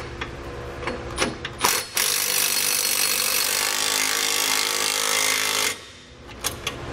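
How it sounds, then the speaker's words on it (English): A power tool snugs down the mounting bolts of Firestone Ride-Rite air helper springs on a 2016 Nissan, giving a few short clicks and bursts and then one loud sustained rattling impact run of about four seconds, with quieter clicks after. "we can go ahead and snug them all down"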